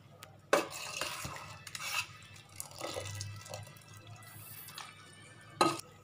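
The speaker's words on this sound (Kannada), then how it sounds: "ಬೆಂದಿರೋ ಸೊಪ್ಪು ಈರುಳ್ಳಿ ಟೊಮೆಟೋನ ಬಸ್ಕೊಂತಾ ಇದೀನಿ ನೀರಿಂದ ಬೇರೆ ಮಾಡ್ತಾ ಇದೀನಿ" Boiled greens with onion and tomato are strained from their cooking water in a kitchen, with quiet dripping and trickling water, scattered clinks of a utensil against a metal vessel and soft stirring sounds nearby.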